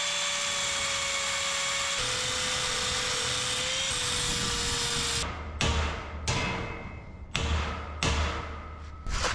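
Power tool cutting through metal tails on a bracket, a steady loud whine running for about five seconds, then a series of short separate bursts with thumps between them.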